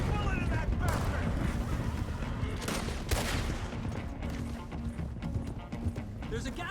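Gunshots crack out during a horseback chase in the Red Dead Redemption 2 video game, several sharp bursts standing out over steady galloping hoofbeats and shouting voices.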